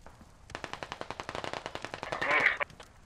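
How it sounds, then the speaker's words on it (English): Rapid bursts of light machine gun fire in the Squad military shooter game, a steady run of sharp, evenly spaced shots lasting a couple of seconds, fairly loud and heard alone with no talking. "There's another like LMG or something down the road near that."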